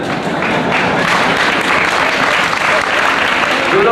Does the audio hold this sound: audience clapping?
yes